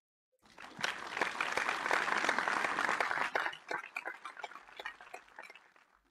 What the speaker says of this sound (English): Please give a huge round of applause to Toastmaster Sairam.